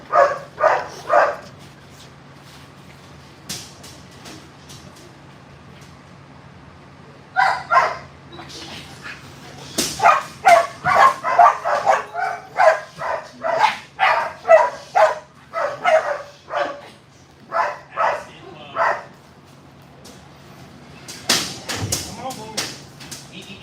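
A working dog barks in repeated sharp bursts, near and loud, with clusters of rapid barks separated by pauses and a handler's voice speaking intermittently between them.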